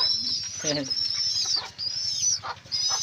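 Breeder birds with two chicks flutter in to their nest in a DIY breeder cage to feed them; brief wingbeats sound over steady, high, thin chirping, with a few louder calls close by.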